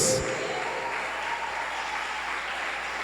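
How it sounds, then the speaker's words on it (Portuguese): Church congregation applauding during a sermon, a steady wash of clapping that fills the moment evenly and holds at a constant level throughout. "Vamos aplaudir o Senhor Jesus."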